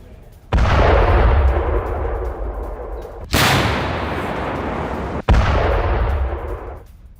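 Artillery fires during Russian ground-force fighting near Novoselivka in the Russia-Ukraine war: three heavy, sharp booms a few seconds apart, each followed by a long rumbling decay, loud and fairly close with no voices.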